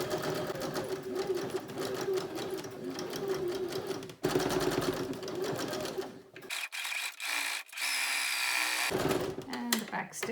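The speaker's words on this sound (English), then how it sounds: "I'm going to do a super stitch again, which I have it up in the machine" A sewing machine stitches a felt egg cosy with a steady, close mechanical whir that runs almost without a break. It stops briefly a few times, and faint talk sits underneath.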